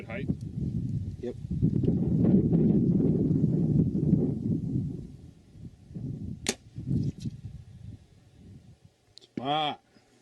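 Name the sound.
arrow shot from recurve bow at balloon target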